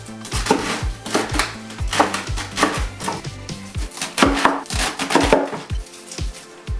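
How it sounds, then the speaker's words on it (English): A knife slices cabbage for kimchi on a cutting board with a steady run of crisp, close chops, each stroke a sharp knock, alone without talk. "now we need to cut the cabbage this way so that they are in small slices"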